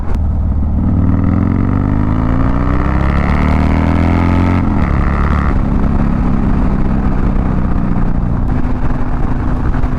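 A modified Harley-Davidson motorcycle with aftermarket exhaust and levers rides along, its engine rumbling loud and close as the pitch climbs through one gear, breaks off briefly at a shift, then pulls steadily again, with no voices.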